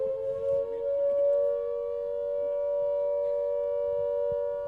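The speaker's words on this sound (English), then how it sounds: "We have to wait for the siren for a few minutes." A civil defense siren sounding during a book fair inauguration in Shillong, a steady sustained wailing tone holding level throughout with faint background activity beneath.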